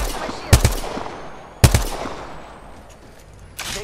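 Gunfire in the video game Apex Legends: two loud, sharp bursts about a second apart, each trailing into a decaying echo, with a third shot starting at the very end.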